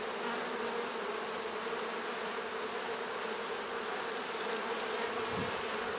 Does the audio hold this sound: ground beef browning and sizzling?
no